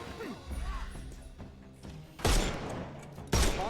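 Two loud, close gunshots in Sherlock Holmes: Chapter One, a second apart, bursting over faint game ambience and low murmuring sound.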